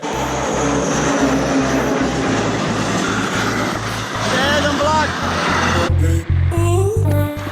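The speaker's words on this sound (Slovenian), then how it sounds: "Dokler tisti vlak tam ne preleze sem." Train passing a railway crossing, heard as loud, steady rumbling with a rhythmic clatter of wheels over rail joints, then the crossing's ringing bell rising clearly near the end.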